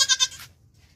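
A goat at a livestock market gives two or three quick, strained bleats close by, then falls quiet over a low background rumble.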